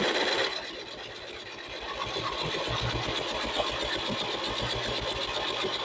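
Electric salad cutter machine slicing potatoes, a steady rapid mechanical whirring with fast rhythmic ticking that starts after a brief moment and runs continuously at close range.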